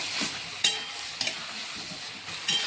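Mutton and potato curry being stirred in a pan on the stove, a soft continuous sizzle broken by a few sharp scrapes and clinks of the spoon against the metal, close and fairly quiet.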